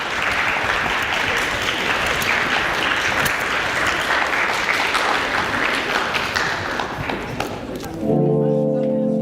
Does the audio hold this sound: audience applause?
yes